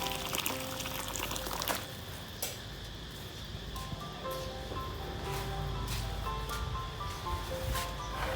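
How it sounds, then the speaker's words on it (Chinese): Hot water poured into a pan of fried bean paste for Thai rad na noodles: a soft, continuous pouring and bubbling wash with faint clinks, fairly quiet and steady throughout. "我们再放入适量的热水哦"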